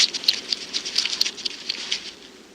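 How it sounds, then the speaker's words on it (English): A hedgehog scampers nearby, making a rapid, light patter of tiny scratchy footfalls on a dry surface for a couple of seconds, uneven in rhythm and fading slightly at the end. "The scampering sound of a spiny mammal, the hedgehog."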